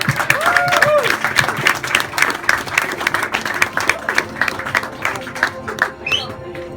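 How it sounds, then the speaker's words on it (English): Guests at an engagement party give a round of applause, a dense patter of clapping close by that swells, holds steadily and then tapers as voices chatter underneath. "We just give a little round of applause."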